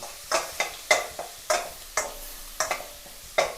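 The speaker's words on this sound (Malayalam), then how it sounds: "വെളുത്തുള്ളി മാത്രം ഇതൊന്ന് ഇളക്കി കൊടുക്കാം" Repeated scraping strokes of a utensil stirring garlic in a pan, about eight short swishes at an uneven rhythm, close by with no voices.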